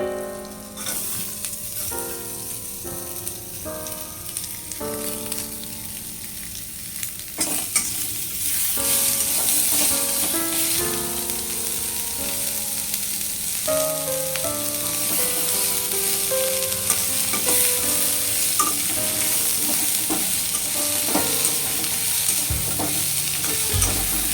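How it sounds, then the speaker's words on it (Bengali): Chopped onions frying in hot oil in a pan for a quick Indian-style purple cabbage dish, a steady loud sizzle with repeated scraping stir strokes, no talking. "দিয়ে দিচ্ছি পেঁয়াজ কুচি।"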